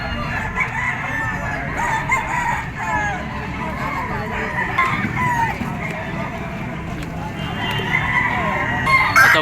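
A 14-month-old yellow-legged Sweater Gilmore gamefowl rooster crows steadily at close range amid a busy poultry market in Padre Garcia, Batangas, with other chickens clucking and crowing around it.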